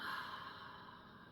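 A slow exhale during a guided breathing exercise, a soft, breathy rush of air that fades gradually, close and alone.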